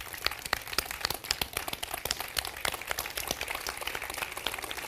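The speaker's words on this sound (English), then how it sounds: "can you give Dr. Anderson a round of applause for being here today?" An audience claps for Dr. William Anderson at a community talk, a dense patter of many hands, moderately loud and steady throughout, with no voices.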